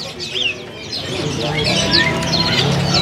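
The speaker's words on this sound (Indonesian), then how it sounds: "Ini ada burung jala suren gacoran ya." Jalak suren (pied myna) songbirds call at a Pramuka bird market kiosk, with bright chirps and whistles over a busy background where people talk and other birds cluck and tweet.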